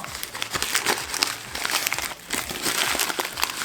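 Paper wrapping crinkles and rustles continuously as it is pulled off the blades of a Rowenta Trim & Style Easy 13-in-1 TN9140 trimmer, close and fairly loud, with no talking.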